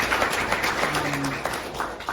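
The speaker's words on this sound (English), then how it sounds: "We give them a round of applause." Soft, continuous applause from an audience at a campus club-hosted talk, a steady wash of hand claps at moderate distance with no standout voices.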